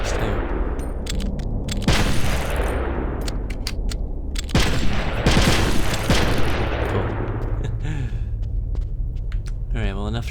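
Rapid gunfire bursts and heavy booms from the GameCube game Metal Gear Solid: The Twin Snakes, loud and continuous for the whole stretch, with someone talking over the shooting.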